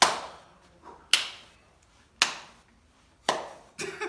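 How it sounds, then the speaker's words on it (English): Five sharp hand claps spaced roughly a second apart, each one crisp and close, with a short room echo trailing off before the next; no one talks. "Doing loads of claps is going to really help. Well, I'm testing the sound."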